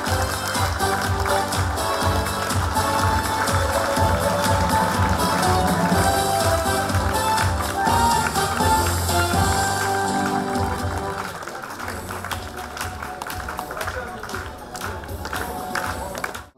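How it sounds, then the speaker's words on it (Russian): Applause and cheering from an audience greet a football club at an award ceremony, with dense clapping sustained loudly before thinning out and fading toward the end. "аплодисменты, аплодисменты громче!"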